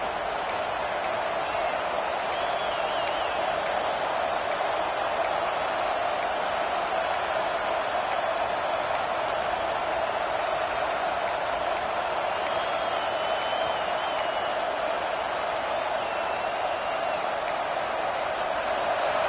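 Football stadium crowd noise during an Ohio State timeout, a dense continuous roar of many voices holding steady and fairly loud throughout, with occasional faint whistles or whoops poking above the wash.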